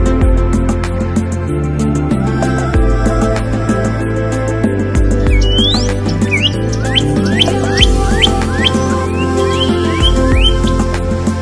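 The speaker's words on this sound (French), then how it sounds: "Pour les oiseaux, la nichée des oiseaux." Birds chirping near their nest in Cajun country, Louisiana: a series of short rising whistled chirps repeating through the second half, set over a steady low rumble and droning background.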